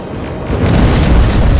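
Rocket blasts in the Terminator: Resistance final boss fight, a loud, deep booming explosion that swells after a brief lead-in and rumbles on to the end.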